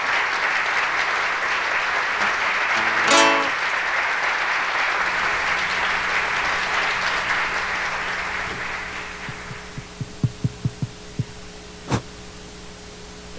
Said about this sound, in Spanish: Vamos a dar un aplauso para él.